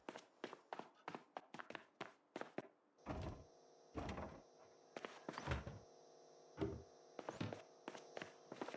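A locked door in a survival video game being rattled and thumped over and over, sharp clattering knocks in quick bursts, fairly close, with no voices.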